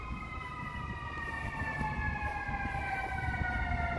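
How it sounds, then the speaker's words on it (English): A wailing emergency siren drifts in the background in Grant Park, Chicago, its tones sliding slowly downward, over a steady low rumble of city traffic. "Hear the sirens in the background."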